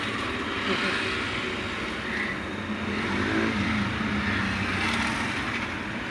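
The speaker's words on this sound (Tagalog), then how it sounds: "Traffic guys, traffic na dito." Road traffic heard from inside a car stuck in a slow jam, a continuous low rumble of engines and passing vehicles with occasional swells, steady and fairly close, no clear talk.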